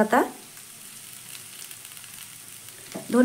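Chicken and capsicum fry in a pan on a gas flame with a soft, steady sizzle between brief louder clatters at the start and end, with no talk.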